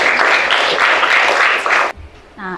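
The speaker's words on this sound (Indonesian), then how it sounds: "Tepuk tangan untuk Teguh." A classroom bursts into clapping for a student named Teguh, a dense, loud patter of many hands for about two seconds. It stops abruptly, followed by a brief pause and then a voice.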